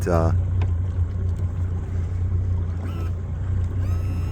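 A motorboat running on Lake Lanier on a summer morning, its engine a steady low drone throughout with water and wind noise layered above, close and continuous.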